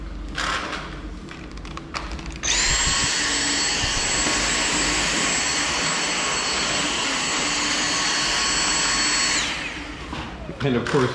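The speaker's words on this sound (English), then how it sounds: "Please don't eat the vacuum." Household vacuum cleaner starts with a surge and runs as a loud, steady whine for about seven seconds before powering down, with a few knocks and faint talk around it.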